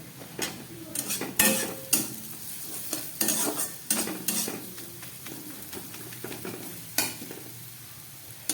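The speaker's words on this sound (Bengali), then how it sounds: "খুব ভালো করে আমি এটাকে একটু ভেজে নিচ্ছি।" Carrots fry in a pan with cardamom and garam masala while a spoon stirs them repeatedly, producing a crisp sizzle broken by frequent close scraping and clinking strokes at an uneven rhythm.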